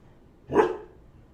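A single sharp dog bark, fairly close, rising out of a quiet room and fading quickly.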